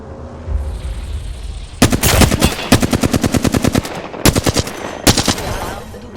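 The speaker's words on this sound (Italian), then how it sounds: "Mi stanno sparando." Automatic weapon fire in Apex Legends rattles out in rapid, loud bursts, several long rhythmic volleys separated by brief pauses over a steady game background hum.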